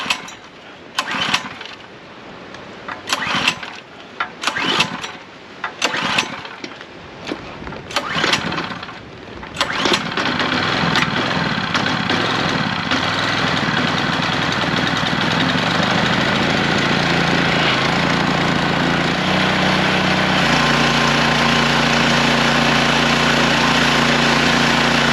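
A small engine on a pressure washer, recovering from a locked-engine fault, is pulled several times in sharp bursts, then catches and runs at a steady, close, loud idle for the rest of the clip.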